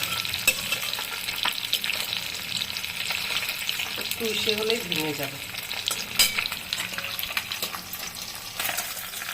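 Pieces of soft, flat boroli fish fry in hot oil, a steady close sizzle with occasional crackles and a gentle turning scrape, while someone speaks briefly over the frying.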